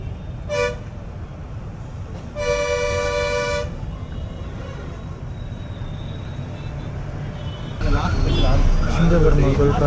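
A car horn honks briefly, then a longer blast follows, over steady road traffic rumble at Singaperumal Koil while a bus is stopped in traffic; voices and louder street noise come in toward the end.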